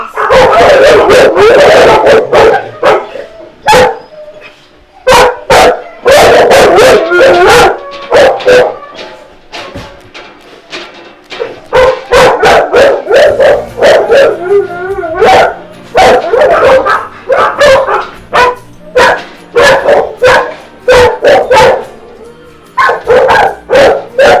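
Many dogs bark loudly and constantly in echoing shelter kennels, sharp overlapping barks mixed with howls and yips, a continuous noisy chorus.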